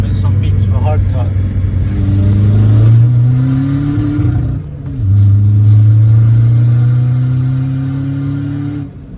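A 1.9 TDI car with a 3-inch downpipe and no exhaust accelerates hard in second gear, giving a loud, deep, raw engine drone that rises in pitch, breaks off briefly at a hard cut and climbs again, close by.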